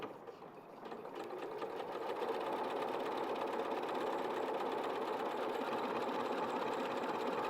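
A sewing machine running steadily on an automatic square buttonhole program, a dense continuous mechanical whirr with rapid needle stitching that swells slightly after the first two seconds and then holds at an even, close level.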